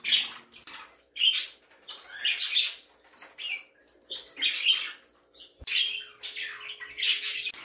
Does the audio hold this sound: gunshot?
no